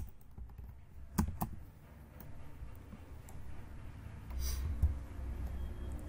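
Sparse, quiet key clicks from a computer keyboard as code is typed for a Node.js Express backend, a few sharper taps standing out over a soft room hiss.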